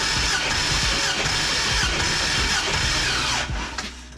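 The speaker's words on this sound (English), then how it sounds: "I'm just gonna crank it until I think it's as high as it's gonna get" Ford Mustang engine cranking over during a compression test, a continuous loud rhythmic starter churn with repeated chugging pulses for several seconds that stops near the end, close and without voices.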